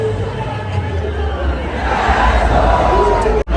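A huge packed crowd gathers for the Chintamani Ganpati arrival procession in 2024, filling the air with loud, continuous hubbub and overlapping shouting voices close by, with a brief dropout near the end.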